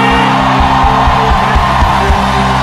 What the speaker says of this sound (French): Est-ce que quelqu'un peut pousser de cris de victoire vers Jésus?